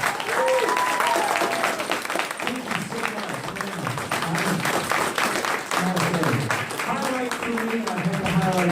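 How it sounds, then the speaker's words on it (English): Comic-Con audience applause for guest Doug Jones, a continuous crackle of many hands clapping with voices shouting and talking over it throughout. "I want to make sure we give him the kind of applause and thank you that we need to give him here."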